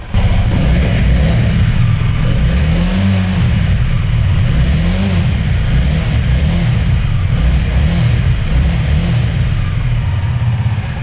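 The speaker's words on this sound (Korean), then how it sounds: "머플러가 정숙하다 보니 엔진 소리가 들리는데 엔진 소리 역시 굉장히 정숙합니다." A 2024-era Honda Rebel 300 motorcycle with its stock muffler and about 4,600 km on it runs steadily close by, a loud, low, even engine drone with slight wobbles in pitch throughout and no voices.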